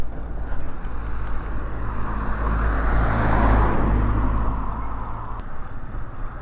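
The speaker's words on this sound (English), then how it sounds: "Right, got to watch this traffic" Road traffic streams past a rider pulled over on a 1500w gearless hub e-bike, a steady loud roar that swells as a vehicle passes close by around the middle and then eases off.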